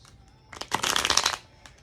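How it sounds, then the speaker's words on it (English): A deck of tarot cards is shuffled in one quick riffling burst, close and crisp, with quiet room tone before and after. "this is the last deck I'm actually shuffling"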